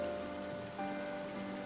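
Steady rain in Final Fantasy XIII, a dense, even hiss of drops on a surface with faint tonal music beneath, continuous and fairly quiet throughout.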